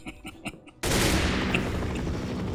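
Gunfire in the Minecraft game, a sudden loud burst that follows a few short clicking sounds and then carries on as a continuous rattling volley with a fading tail.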